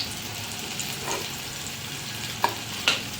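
Leftover rice balls fry in oil over a low flame, making a continuous close bubbling sizzle, broken by a couple of sharper crackling pops near the end.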